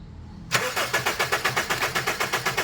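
A Honda Civic FD with a shaking engine, checked cylinder by cylinder for spark, cranks on its starter in a fast, steady chugging rhythm that begins abruptly and continues close and loud.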